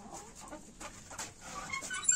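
Hens clucking inside a coop, a scatter of soft, uneven clucks and short calls at low to moderate loudness with no talk over them.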